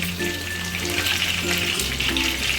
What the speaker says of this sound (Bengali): চিকেনগুলো ফ্রাই হতে হতে